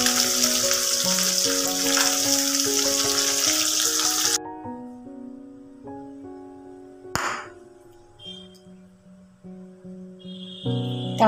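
Pabda fish sizzling and frying in a pan with ginger, chili paste and tomato, a steady hiss for several seconds that drops away, leaving faint clinks and a brief stir under background music.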